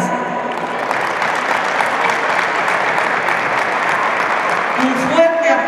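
Steady audience applause fills a Teachers' Day celebration hall, loud and continuous throughout, with a voice briefly audible near the end.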